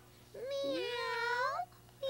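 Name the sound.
children imitating a cat's meow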